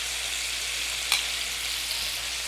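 Pan-seared scallops sizzle in a hot pan with a steady, close frying hiss and one brief clink as they are turned over. No talking.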